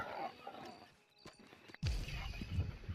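Horse hooves clip-clopping in the video game Red Dead Redemption 2, a few soft muffled hoof steps followed by a louder burst of movement and rustle, faint overall.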